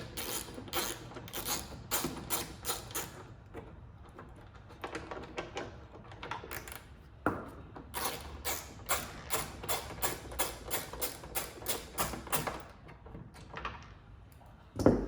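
Two 8mm bolts come out of the trim on a 2018-or-later Honda Accord, with rapid ratcheting clicks in quick bursts and a few pauses, close by.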